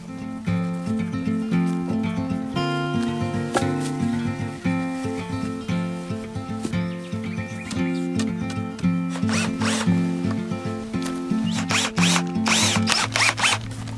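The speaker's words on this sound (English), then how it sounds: "Takes a very confident man to use that drill, Ricky." A power drill whirs in short repeated buzzing bursts near a pool rendering job on a Portugal homestead, with scraping and clattering tool noise between runs.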